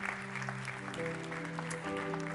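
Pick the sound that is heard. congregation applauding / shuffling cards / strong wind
congregation applauding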